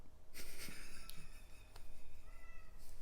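A domestic cat gives several short, close meows and snorty breathy sounds in a quiet indoor room, fairly faint overall with no talk over them.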